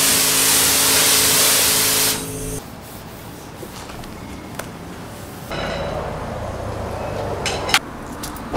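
A G35 is washed at a car wash with a pressure sprayer, a loud hissing spray that cuts off after two seconds, then quieter intermittent spraying and rustling follow.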